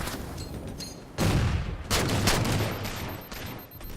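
Rapid gunfire in the Halo 4 video game, bursts of automatic shots and heavy booming impacts that start after a quieter opening second and stay loud, dense and continuous to the end.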